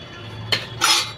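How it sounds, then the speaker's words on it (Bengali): A wok is set down on a kitchen stove, giving two short metallic clanks, the second louder and ringing a little longer, close by with no talking. "তো চলুন আমি কড়াইটা বসাই"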